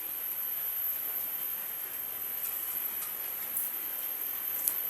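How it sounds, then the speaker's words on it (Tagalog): Rain falls and drips outdoors as a steady soft hiss with occasional faint drip ticks, fairly quiet and continuous. "Basa-basa, umuulan siya."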